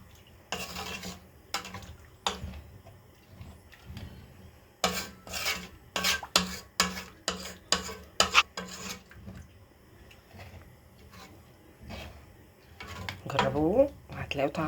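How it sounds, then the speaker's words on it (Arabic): A spoon stirs Egyptian rice with half a spoon of salt in a pot, giving repeated close scraping and rubbing strokes in bursts, with someone speaking at times. "نبدا نقلب بقى كده."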